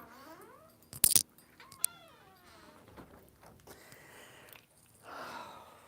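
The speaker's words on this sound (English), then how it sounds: "My cat talks." A talkative cat meows repeatedly outdoors, a series of rising and falling calls with a sharp knock or clatter partway through and a fainter breathy sound near the end.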